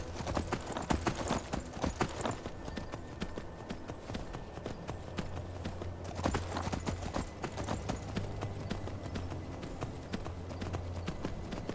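Horse hooves clip-clop steadily during a ride through Skyrim, a regular trotting rhythm over a busy game soundscape with a low droning tone underneath.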